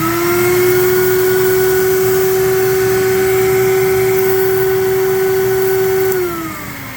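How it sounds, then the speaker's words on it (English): A VPI record-cleaning machine's vacuum whines loudly and steadily for several seconds while cleaning a dirty vinyl jazz record, then its pitch drops as the motor winds down near the end. "So we're going to hit the vacuum."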